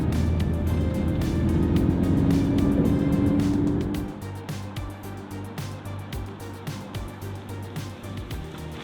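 A Porsche Cayman T drives along, its engine hum and road noise steady before easing into a softer, rhythmic cruising drone with faint thumps.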